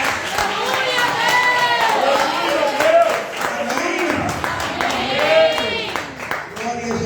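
A church congregation claps along during a worship service, steady clapping mixed into a loud, continuous voice that carries over the crowd throughout.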